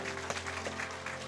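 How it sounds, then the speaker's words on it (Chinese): A church congregation claps their hands in encouragement during a service, a fairly faint, dense patter of many hands without a break. "我们都拍手鼓励他们一下"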